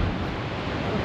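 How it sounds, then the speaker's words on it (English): Ocean waves breaking along the shore at Las Palmas de Gran Canaria, a steady, close and loud wash of surf with wind noise over the microphone, without any pause. "Look at the wave! It's crazy!"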